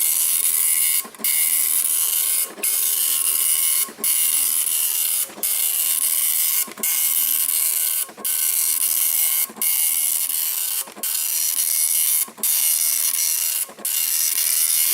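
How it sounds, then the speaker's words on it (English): An Apple ImageWriter dot matrix printer buzzes in long, harsh, high-pitched passes, each broken by a brief pause, repeating steadily about every second and a half. "Love that sound of a dot matrix printer working"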